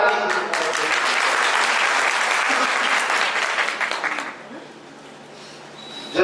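Loud, dense applause from a gathered audience at a Pasmanda Muslim community event in Karwi, Chitrakoot, sustained for about four seconds before tapering off into quieter scattered clapping and room noise.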